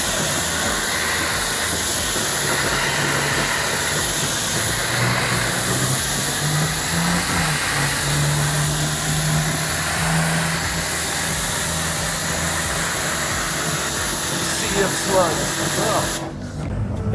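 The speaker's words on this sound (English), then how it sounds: "Pressure wash again." A pressure washer blasts grime off the walls of a car wash bay, a loud continuous hissing spray with a low engine drone underneath, running steadily before cutting off abruptly near the end.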